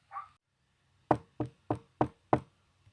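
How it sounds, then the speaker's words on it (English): Five firm knocks on a door in an even, deliberate rhythm, close and clear against near silence, preceded by a brief soft sound. "knocked on the door."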